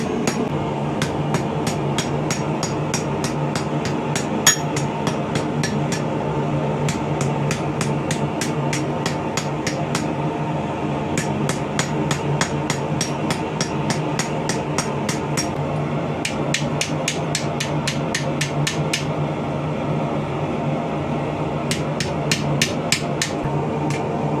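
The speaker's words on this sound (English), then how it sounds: "Just going to come over to this rounding side of our swage here and start rounding up the socket." A hammer rings on a steel swage while a medieval arrowhead socket is rounded: rapid, bright metallic strikes come in bursts with short pauses between them, steady and close, over a low workshop hum.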